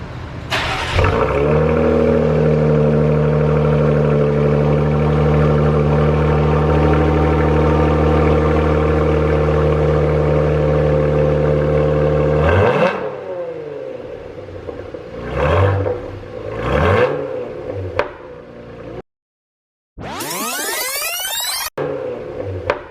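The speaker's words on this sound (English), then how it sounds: "we got the startup, the Jeep Gladiator with the Corsa dump exhaust on it" A Jeep Gladiator pickup with a Corsa dump exhaust cranks and settles into a loud, steady idle for about twelve seconds, then revs repeatedly in sharp bursts, ending with one roaring high rev.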